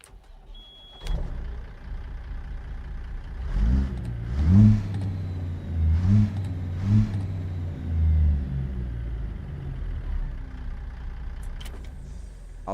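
A Peterbilt 379 truck engine in American Truck Simulator rumbles low and deep, then revs up in several rising surges before settling back to a steady idle, with no one speaking.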